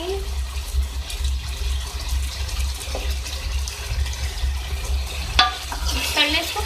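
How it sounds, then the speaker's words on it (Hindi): Chicken white biryani being stirred and mixed in a pot with white pepper added, a steady scraping and gentle sizzle with a low cooking hum throughout, a brief clink near the end. "इसको मिक्स कर लेंगे।"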